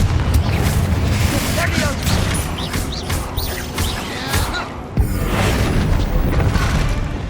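A Confringo spell in Hogwarts Legacy sets off a deep rumbling explosion within an enclosed tomb. A dense, sustained roar follows with crackling debris, and a second burst comes near the end, while a voice talks over it.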